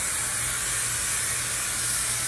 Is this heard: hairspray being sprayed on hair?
yes